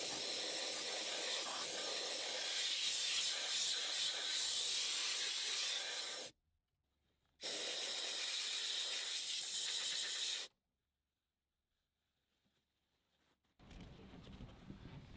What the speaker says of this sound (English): I like to blow this out with compressed air